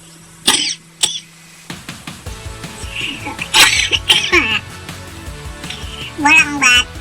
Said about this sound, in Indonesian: Bolang batuk, bolang nggak punya BPJS jadi nggak bisa berobat